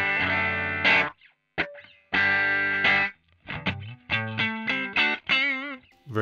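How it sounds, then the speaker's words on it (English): Clean electric guitar played through a Boss Katana amp, short strummed chords and picked single notes with brief pauses, close and alone with no talking. "Clean sound through the Katana."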